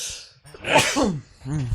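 A single close sneeze with a sharp intake of breath before it, followed by a voice speaking briefly.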